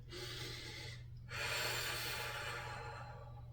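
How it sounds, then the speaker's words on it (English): Deep, audible breaths during a stretching and balance exercise in a golf core-strength and flexibility workout: two long, broad airy exhalations, the second after a short pause, close and steady over a low hum. "Do a couple of deep breaths."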